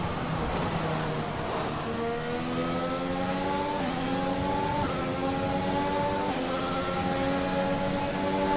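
Formula 1 race cars in the F1 2021 racing video game, several high-pitched engines whining and rising through gears together, a steady continuous drone at moderate level with no talking.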